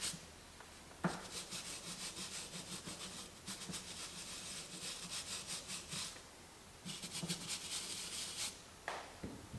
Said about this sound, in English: we're going to grab our leather brush and do the shift boot